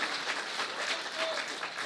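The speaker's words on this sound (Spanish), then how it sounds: "¿Cuánto le dan un aplauso fuerte a Jesucristo?" Applause from a church congregation during a sermon, steady and dense clapping throughout, moderately loud with no voices standing out.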